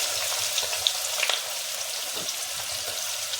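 Onion and fenugreek seeds frying in hot oil in a home kitchen pan, a steady dense sizzle with a few faint pops and light crackles, close and continuous with no talking.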